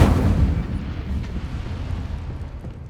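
The Incendio fire spell cast in Hogwarts Legacy, a loud whooshing burst right at the start that trails off into a rumbling, crackling fade.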